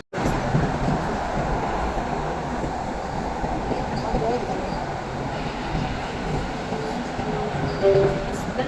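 A Gandhinagar to Ahmedabad metro train hums with a steady, even rumble of rolling wheels and motors, moderately loud and continuous the whole time, with a faint rising swell near the end.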